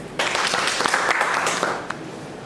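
An audience applauds at an event, a dense, steady wash of many hands clapping that starts abruptly and holds at a fairly loud, even level.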